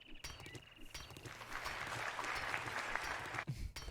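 Applause from a played recording swells into a steady, moderately loud patter of many hands lasting a couple of seconds, then cuts off abruptly.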